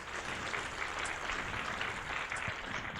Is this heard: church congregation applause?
yes